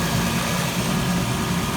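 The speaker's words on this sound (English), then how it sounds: "I got the engine running still, just trying to get all the air out the system." A Lexus LS400 engine idles after a radiator swap, giving a steady, even low hum with a faint rhythmic pulse that holds at a constant level and carries no talk over it.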